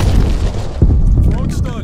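Frag grenade blast in the shooter Call of Duty: Black Ops Cold War, a single low boom landing just before the midpoint over dense game noise, with a lingering rumble and scattered clatter afterward.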